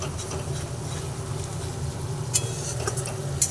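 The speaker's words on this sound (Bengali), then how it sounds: "এইভাবে অন্তত পাঁচ ছ মিনিট ধরে আমি মশলাটাকে ভালো করে কষিয়ে নেব" Spice masala sautés in a pan, a low steady sizzle with a couple of faint stirring scrapes, close and continuous, no one speaking.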